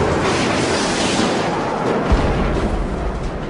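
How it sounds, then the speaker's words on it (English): A Shafrir 2 heat-seeking air-to-air missile launches from a fighter jet during the Yom Kippur War as a loud, continuous broadband rushing roar with a brief deeper thump partway through and no talking. "So I launch the missile."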